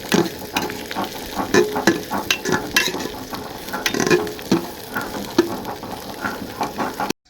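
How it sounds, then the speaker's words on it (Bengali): Chopped onions and garlic fry with lentils in a pan for Bengali khichuri, a steady close sizzle with frequent scraping stirs and light clinks of a spoon against the pan, and no talking. "কুচিয়ে নিয়েছি, দিয়ে দিলাম, দিয়ে ডালের সঙ্গে ভেজে নেব।"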